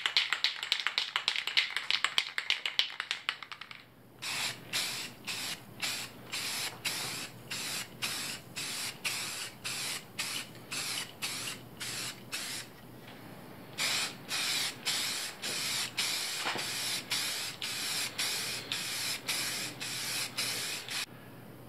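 Spray paint for a second coat on a wheel lug nut goes on in many short, rhythmic hissing bursts, close and steady, with one longer continuous spray at the start and a brief pause midway.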